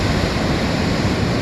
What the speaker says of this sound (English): Look at that wave.